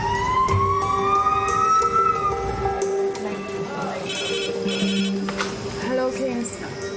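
The red phone rings in a busy A&E department at King's hospital, a repeating electronic tone and warbling siren-like alert cutting through surrounding voices and ward noise.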